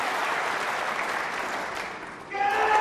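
A snooker crowd applauds Judd Trump's winning black ball in the UK Championship final, dense sustained clapping that swells near the end, with a voice briefly over it.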